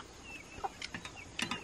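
A chicken clucks nearby, several short clipped calls spaced unevenly, ending in a quick louder burst of clucks, with no one talking.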